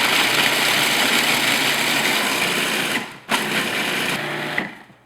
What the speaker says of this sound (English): I'm just going to process until our almonds are finely ground